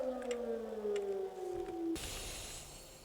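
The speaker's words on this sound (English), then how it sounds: "We're having a siren" An outdoor siren sounding during a drill slowly winds down in pitch, faint and distant, before a harsher broadband noise cuts in abruptly for the final second.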